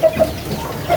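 Baby chicks clucking and peeping while they eat, with short, soft calls repeating near the start, around the middle and at the end, close by over a low background murmur.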